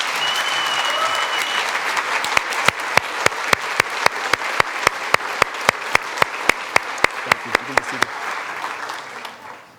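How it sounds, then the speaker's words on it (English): Church congregation at Landmark Baptist applauding students, a sustained round of crowd applause that breaks into loud, evenly timed unison claps about every third of a second before fading out. "Let's give them a round of applause, can we?"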